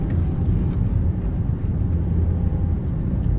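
A Fiat 500 Dualogic with a fault that makes it jump out of gear, driving along with a steady, loud low engine and road rumble throughout and no noticeable gear changes.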